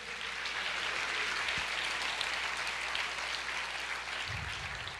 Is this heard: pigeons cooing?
no